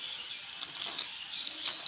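Water trickles a little at a time into gram flour batter being whisked for crisp drumstick flower fritters, a light, close, patchy splashing and dripping with no voices.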